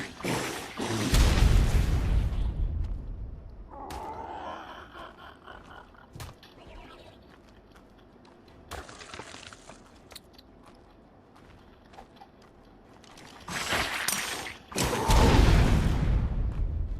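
Grenades exploding against a base pillar in a video game: loud broadband blasts at the start and again near the end, with a few sharp short bangs and quieter shuffling between.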